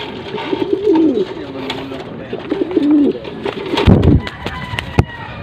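Pigeons coo close by in repeated soft, throaty rolling phrases, with someone talking over them and a brief thump of handling near the end.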